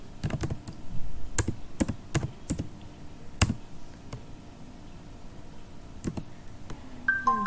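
Keys clatter on a computer keyboard as a repository name is typed, bursts of quick close clicks separated by short pauses, with no talking.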